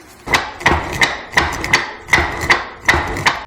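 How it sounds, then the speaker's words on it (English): A hammer flattens the end of a winch line on a hard surface, striking in a steady rhythm of about ten sharp, close metallic blows in pairs, with no talk. "You take a hammer, you put that line down there, and you just flatten it out."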